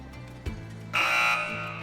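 Quiz show buzzer on a Ramzan Islamic quiz, one short bright electronic tone sounding over a low background hum, preceded by a faint thump.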